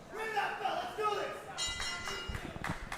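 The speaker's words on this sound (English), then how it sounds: "The bell has rung and our main event" Bell ringing at the start of a wrestling main event in an Atlanta, Georgia arena, with several metallic clangs in quick succession near the end, heard under a commentator talking and crowd noise.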